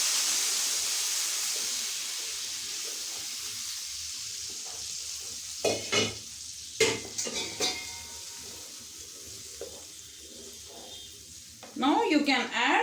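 Tomato paste sizzles steadily in hot oil with spluttering mustard seeds for a tomato pickle, a continuous frying hiss broken by a few sharp stirring and pan knocks near the end.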